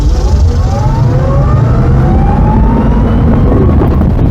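An electric-converted Volkswagen Super Beetle on off-road tires with a body lift, weighing about 2,100 pounds, gives a loud steady motor whine whose pitch sweeps upward over heavy road rumble; no voices.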